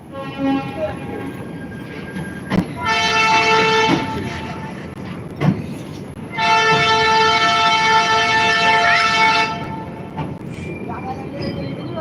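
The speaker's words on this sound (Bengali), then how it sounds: "নসিপুর রেল ব্রিজ পার করে এই মুহূর্তে মুর্শিদাবাদের দিকে গাড়ি ধীরে ধীরে চলে যাচ্ছে" A train rolls slowly across the Nasipur rail bridge toward Murshidabad during a load capacity test, a continuous rumbling run with two long sustained horn blasts and clanks, heard from nearby with a faint voice at times.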